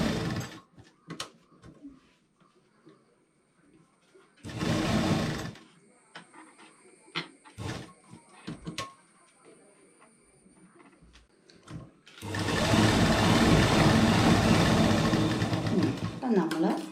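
A sewing machine stitches the neckline of a nighty in two bursts, one short and one longer and loud near the end, with quieter clicks and handling noises between them and occasional talking.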